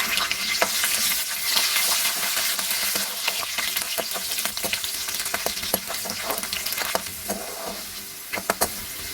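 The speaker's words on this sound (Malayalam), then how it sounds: "ജീരകം ഫ്രൈ ആയി വരുമ്പോഴത്തേക്കും ആദ്യമേ വെളുത്തുള്ളി ചേർത്ത് കൊടുക്കാം." Garlic tossed into cumin seeds frying in hot oil for a white chickpea curry crackles and sizzles loudly up close, with scraping stirring strokes breaking through the steady frying.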